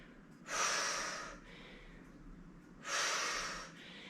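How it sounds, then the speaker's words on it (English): Heavy breathing during an at-home full body weight workout, two long forceful exhalations a couple of seconds apart, close to the mic, with quiet room tone between them and no talk. "Got that breath out and breath in."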